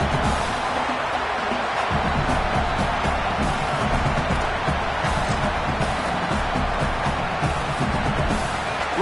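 Steady, dense roar of a football stadium crowd during a preseason Miami game as the field goal unit lines up on fourth down, a continuous wash of voices and cheering with no break.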